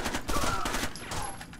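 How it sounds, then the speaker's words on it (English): Rapid gunfire in the tactical shooter Rainbow Six Vegas 2, a dense burst of several close shots in quick succession lasting just over a second, loud with no talk over it. "I shot him in the foot."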